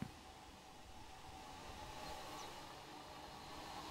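A loaded train ride in the Planet Zoo video game gives a soft, steady rolling rumble at a low level. It starts with a brief thump and continues without pause for about four seconds.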